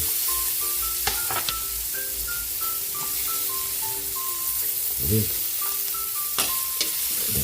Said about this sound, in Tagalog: Mag-igisa na tayo para sa ating chicken pickles. Lagyan na rin natin yung ating onion.